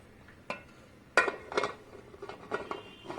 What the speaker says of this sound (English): Next we need to cover our pressure cooker.